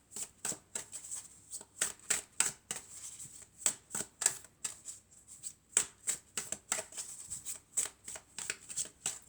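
Oracle cards being shuffled and handled close by, a rapid irregular run of crisp flicks and riffling slaps, each burst short and papery, with no voice.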